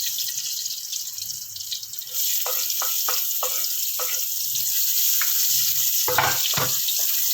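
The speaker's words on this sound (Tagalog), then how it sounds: "gisa na natin ang ating adobo. Bango ng bango ng bawang." Garlic sautés in oil in a pan for chicken adobo, giving a steady soft sizzle with scattered sharper crackles and pops, close and alone without talk.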